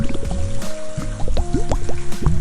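Water poured from a plastic cup into a bathtub, giving close splashes, drips and bubbly gurgles in quick irregular bursts, loud and alone.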